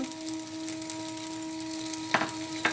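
Msemen dough fries in an oiled pan with a faint steady sizzle, a low electrical hum underneath and a couple of brief scraping clicks near the end.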